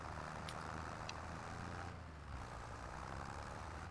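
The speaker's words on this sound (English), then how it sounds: "This is one hell of a noisy tractor." A noisy farm tractor engine runs at a steady low rumble throughout, fairly faint and constant with no one speaking.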